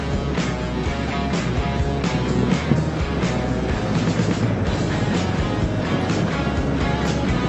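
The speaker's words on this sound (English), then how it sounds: "I don't know if you can hear the bike actually purring along" A motorbike engine purrs steadily while riding out on the road, a constant broad rumble mixed with wind rush that holds an even level throughout with no talking.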